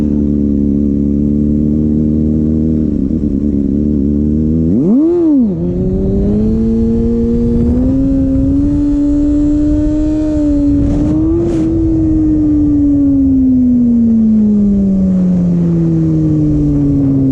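A Kawasaki Ninja ZX6R motorcycle engine held at a steady tone, then revved sharply on the throttle and dropped back into a rising, sustained, loud pull that slowly falls away, with wind noise throughout.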